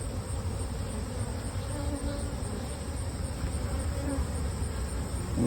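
Honey bees buzzing around a hive while a giant spider wraps some of them: a steady, dense drone of many insects close by, continuous and even throughout.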